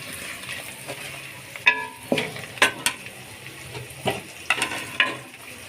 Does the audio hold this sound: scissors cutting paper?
no